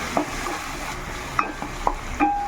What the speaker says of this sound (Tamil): இஞ்சி பூண்டு போட்டு நல்லா வதக்கிட்டோடனே பார்க்கலாம்.